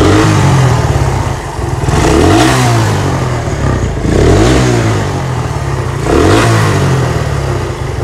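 A Suzuki Satria FU 250 motorcycle fitted with an RX King carburetor is revved hard three times in a row, each blip of the throttle rising and falling over a steady, loud, close engine idle.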